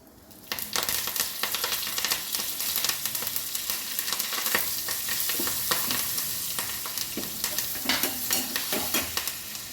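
Steady, loud sizzling of spices, turmeric and curry leaves hitting hot oil for dal tempering, with occasional stirring scrapes, continuous for the whole stretch after a quiet start.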